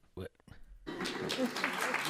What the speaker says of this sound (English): And then everybody applauds.